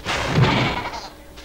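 A single drawn-out bleat, like a sheep's cry from a game, sounding fairly close with a faint low thump partway through.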